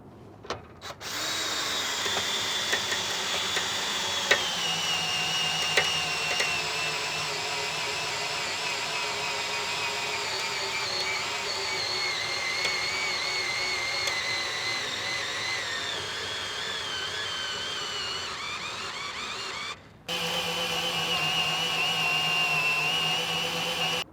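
A power drill runs steadily for a long stretch while extending a mobile high-power speaker array into the air, a continuous whine with a brief cut near the end before it resumes, loud and close.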